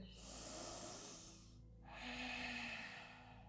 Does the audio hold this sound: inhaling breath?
yes